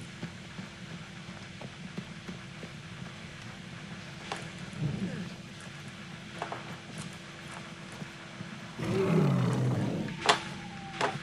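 A lion in Far Cry Primal lets out a loud, rumbling roar near the end, rising out of steady outdoor game ambience and the clatter of hooves.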